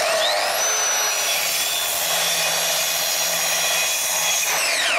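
A Kaindl multifunction saw blade cuts through aluminium with a loud, continuous high-pitched whine and grinding rasp, steady and close throughout with no voices.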